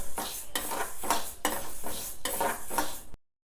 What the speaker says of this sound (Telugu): ఇంకా కొంచెం వేయించుకోవాలి, బాగా పచ్చి వాసనలు పోయే వరకు మంచిగా వేయించుకోవాలి